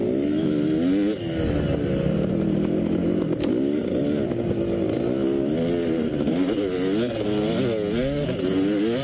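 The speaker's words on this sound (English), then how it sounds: "Here's one of the faster guys stalling his bike out in front of me." At a 2015 Portland Trail Riders hare scramble, a dirt bike close by stalls out while its own and nearby engines keep revving and buzzing in wavering pitch, loud and continuous throughout.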